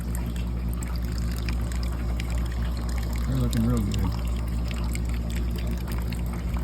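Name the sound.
water circulating in a sandponics grow bed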